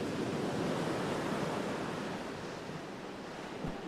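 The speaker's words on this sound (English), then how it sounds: "you can hear the waves while we are sleeping" Caribbean surf near Santa Marta, Colombia, breaks on the shore in a steady, full roar of rushing water and wind that swells slightly then eases, with no voices.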